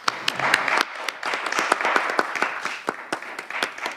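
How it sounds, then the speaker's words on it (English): Audience applause for speakers and moderators at the close of a business forum panel, a dense wash of many hands clapping at close range, steady and sustained throughout. "let's have a round of applause for them"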